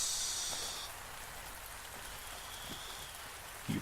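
Rain used as an audio drama sound effect, a soft continuous patter of drops with a few louder splashes, quiet and steady.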